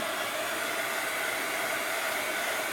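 Dryer blowing steadily to dry paint on an art journal page, a constant close whooshing hiss of air with no other sounds.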